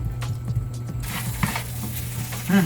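Sugar and soy sauce are stirred into nasi goreng in a hot pan, soft scraping strokes over a low steady hum, with a brief louder clink near the end.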